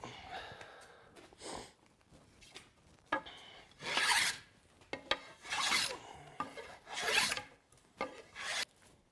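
Hand rasping on a maple board bow held in a vise, taking wood off stiff areas of the limb: repeated loud scraping strokes in an uneven rhythm, close up, with pauses between strokes and no talk.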